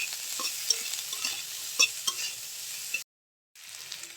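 Vegetables, including potatoes and carrots, sizzle and fry in a pan with scattered stirring clatters, steady and close, then a brief dropout of silence before the frying resumes.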